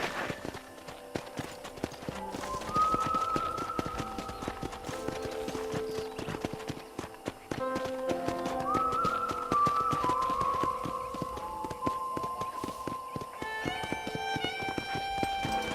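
Horse hooves clip-clop in steady rhythm as a rider travels in the Red Dead Redemption video game, with musical score tones and ambient game sound layered over the continuous hoofbeats.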